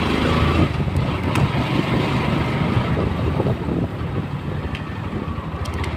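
Motorcycles ride at speed along a village road at night, a steady low engine rumble heavily buffeted by constant wind noise on the microphone, with no talking.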